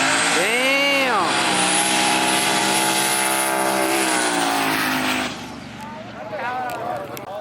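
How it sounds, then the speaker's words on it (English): Cars race at an airport event, including a Honda Civic: a loud engine screams up through rising gears close by, then drops away to a fainter second rev, with shouting voices mixed in. "Oh, he is racing the Honda."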